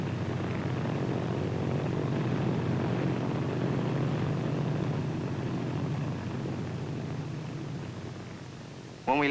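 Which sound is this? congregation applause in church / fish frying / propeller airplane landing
propeller airplane landing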